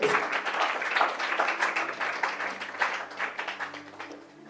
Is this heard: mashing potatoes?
no